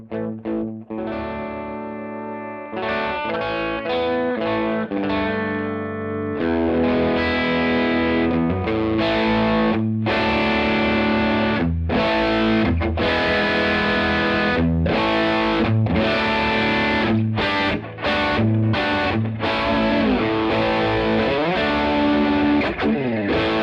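Electric guitar through a Fender Pugilist distortion pedal, played loud and continuous with sustained chords and riffs while the tone and gain knobs are adjusted, giving a thick, saturated drive with brief gaps between strums.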